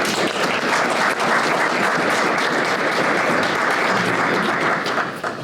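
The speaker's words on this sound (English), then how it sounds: "please give Scott a great round of applause." Steady, dense applause from a large crowd at an educational workforce forum fills the room for several seconds before starting to fade.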